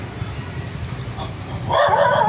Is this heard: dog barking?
yes